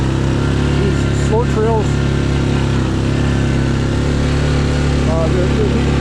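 A 2021 Yamaha Grizzly 700 SE ATV engine drones steadily and close as it rides slowly along an unmarked wooded trail near Loon Lake, running under someone talking throughout.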